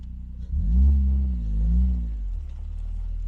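An Ariel Nomad off-roader on an abandoned mountain road revs hard with one rear wheel caught on a big boulder, the deep engine note rising, wavering and dropping over about two seconds before settling back to a steady rumble.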